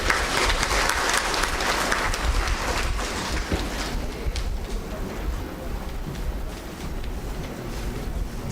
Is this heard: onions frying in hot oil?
no